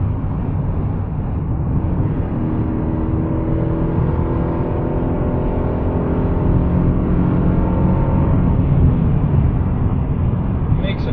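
A 2015 Chevrolet Colorado Z71 pickup truck engine revs and roars continuously, rising in pitch in drawn-out sweeps, heard from inside the cab with a steady rumbling drone.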